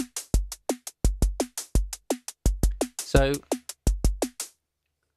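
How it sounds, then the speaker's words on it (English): Korg Volca Drum synth playing a programmed pattern: punchy bass drum hits in a steady rhythm with crisp hi-hat ticks and a short noisy snare burst, close and clear, ending in silence. "I've just made up, very quickly made up a kind of a hi-hat and a snare just on the fly."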